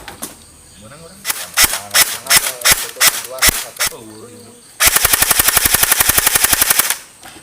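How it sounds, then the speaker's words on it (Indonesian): An airsoft AK47 rifle fires, first as a series of separate single shots, then as a rapid full-auto burst of sharp cracks. The shooting is loud and close. "Oke, kita coba tembakin."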